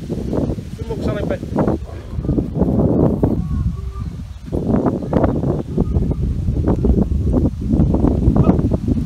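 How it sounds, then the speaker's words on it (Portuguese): Strong wind buffets the microphone outdoors at a ranch training session, a loud, continuous rumbling roar with gusts rising and falling; a voice speaks briefly under the noise. "Tá ventando pra caramba, né, pessoal? Aí o barulho."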